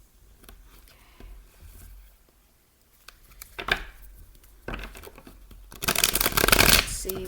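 Tarot cards being shuffled by hand in several short riffling bursts, quiet at first and growing louder and closer toward the end, with soft handling sounds between.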